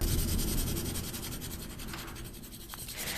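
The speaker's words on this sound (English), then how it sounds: "It's a little bit scratchy even though it's 4B." Steady dry scratching of a soft 4B graphite pencil moving across paper, close up and continuous, with a slightly rough, gritty texture.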